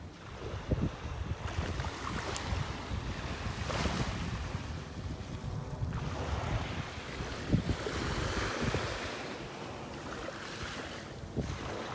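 Ocean waves wash steadily onto a beach in North Naples, Florida, a continuous surf roar with broken swells and gusts of wind buffeting the microphone, no voices.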